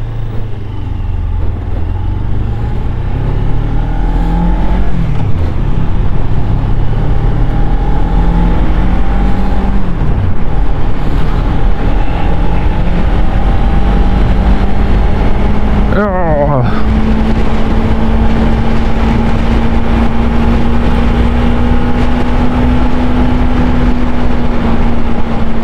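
A Suzuki GSX250R motorcycle accelerates hard with a loud, close engine note that climbs in pitch through several gear changes and keeps droning steadily.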